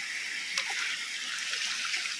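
Water splashes and pours steadily while someone rinses off at an outdoor adventure park, a bright continuous hiss with a brief splash near the start, close and unbroken by talk.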